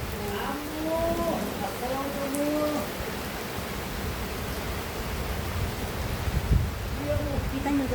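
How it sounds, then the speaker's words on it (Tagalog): Heavy rain pours steadily in a broadband wash around plants, with a person talking intermittently over it. "Dito muna kami kasi umuulan, lakas ng ulan."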